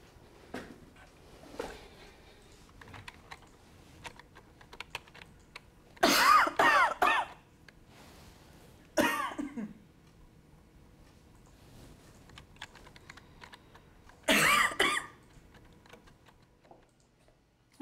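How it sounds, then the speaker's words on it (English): A person coughs in three separate loud bursts, one double at about six seconds, one short, and one near the end. Soft ticking or tapping carries on quietly in between. "Yeah, it's just a cough."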